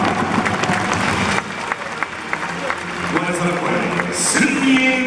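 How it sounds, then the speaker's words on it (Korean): Stadium crowd at a Suwon football match applauding substituted player Song Min-kyu, a broad wash of clapping and crowd noise with an announcer's voice over it, loud and reverberant. "송민규 선수에게 격려의 박수를 부탁드립니다."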